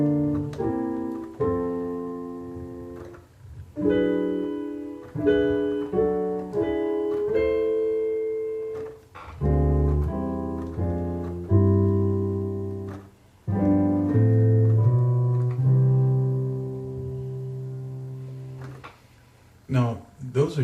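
Piano chords in a traditional gospel walk pattern in C, played in a slow progression, each struck and left to ring before the next, with a moving bass line and a final flourish.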